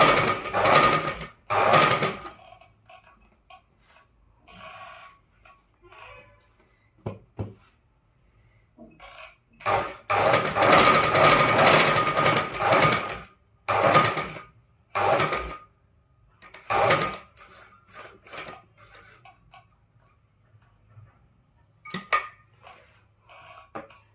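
A sewing machine runs in short bursts of rapid stitching, adding thread piping along a square neckline, with quiet pauses between runs and a few small clicks and handling sounds.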